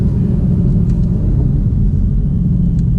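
Dodge Charger with a Hemi V8 on Pirelli P Zero tires gives a loud, steady, deep rumble while driving, with no voices over it.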